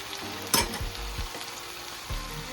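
Ackee, saltfish and okra with onion simmer in a covered pot, a soft continuous sizzle and bubbling with a single knock of the lid or a utensil early on.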